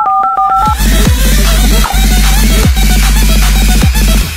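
A phone call being dialed: a few quick keypad tones, then a loud repeating electronic ringback or dial pattern in regular pulses, close and steady with no talking.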